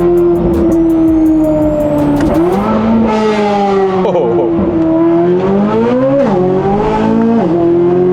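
A sports car engine revs loudly and close by, its pitch climbing and dropping through several throttle blips and sustained holds, with no talking over it.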